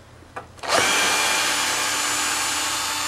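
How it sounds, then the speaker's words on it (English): A power drill backs screws out of a wooden seedling greenhouse frame: a couple of faint knocks, then the motor spins up into a loud, steady, close whine that holds without pause. "I'm going to go ahead and unloose these screws"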